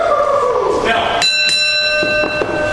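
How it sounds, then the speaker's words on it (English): A wrestling ring bell rings several sharp metallic strikes to start a televised main event, each leaving a bright sustained ring. An announcer's voice runs under the opening strike. "You heard the bell."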